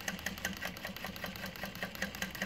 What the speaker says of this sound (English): So now if I put this underneath here, I could sew. Here we go, we're gonna sew.